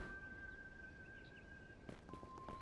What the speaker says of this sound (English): What's that whistle?